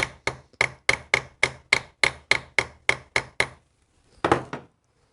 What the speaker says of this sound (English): We're using the ball end of a ball peen hammer to peen this over.